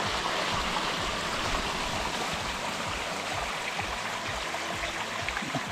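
Water flows steadily through a gold panning sluice box, making a continuous, close, rushing and splashing sound with no voices.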